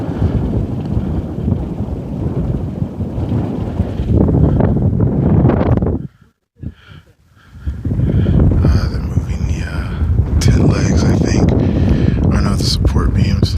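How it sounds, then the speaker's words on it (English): Wind in the open desert roars and buffets hard against the microphone, loud and continuous, with someone talking through it and a short lull in the middle. "Which I wish the wind would die down."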